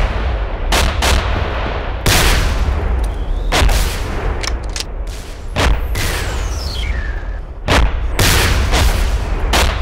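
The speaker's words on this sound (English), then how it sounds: "hurry up, I wanna fire some RPGs!" Rocket launcher shots in an RPG knife-fight video game, a run of loud, sharp booming blasts at irregular intervals with rumbling decay, alongside scattered gunfire and an occasional whistling projectile.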